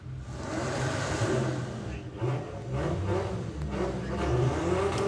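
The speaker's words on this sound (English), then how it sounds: "Phil Jones down there with the Passat estate." A VW Passat estate drag car at a Bug Jam drag racing event revs hard in repeated loud surges, heard nearby with continuous engine roar and crowd-level background noise.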